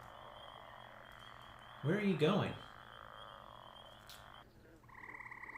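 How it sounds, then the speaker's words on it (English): Frogs croak in an EverQuest game scene, a burst of repeated low croaks standing out for about half a second against steady ambient game sound, with a short spoken line overlapping. "Sound effects are nice. There's croaking and some other fun stuff."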